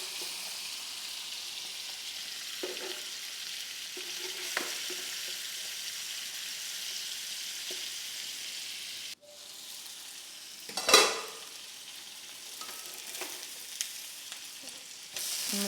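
Sardines frying in a pan, a steady soft sizzle running throughout, with a brief louder crackling burst partway through as the fish or pan is disturbed.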